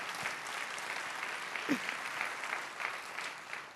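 A church congregation claps together during a sermon, a dense, steady wash of applause from a crowded room that carries on through the whole moment.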